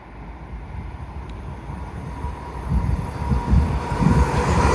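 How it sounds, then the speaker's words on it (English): LNER Azuma train passing through Doncaster station on a London King's Cross to Aberdeen service, a low rumble building steadily and growing louder as it nears, with no talk. "Passing through now will be a LNER Zoomer working a service from London King's Cross to Aberdeen"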